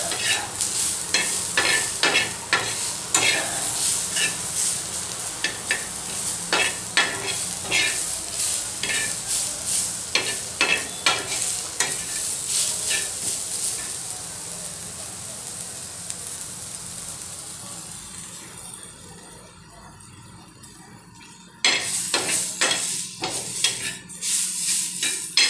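Spice paste with garlic for Indian egg curry frying in a pan, a loud continuous sizzle broken by repeated sharp spatula scrapes in an uneven rhythm, briefly quieter before the stirring picks up again, with no talking.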